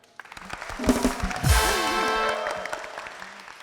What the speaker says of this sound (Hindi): तो नेहा के लिए तालियां